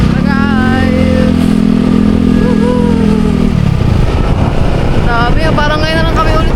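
Several motorcycles on a road rev their engines loudly and continuously, a steady low drone rising and falling, with wind buffeting the microphone and excited voices talking over it.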